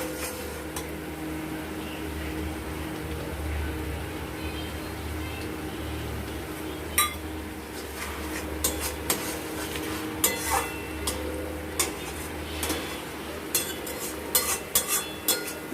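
Pomfret curry with turmeric and Kashmiri chilli powder being stir-fried in a pan, with a steady low sizzle and sporadic sharp clinks of a spatula scraping and tapping the pan that grow more frequent toward the end.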